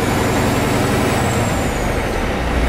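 A truck's diesel engine revs steadily while building air brake pressure for a CDL pre-trip inspection, a loud, continuous low rumble that holds without a break and with no voices.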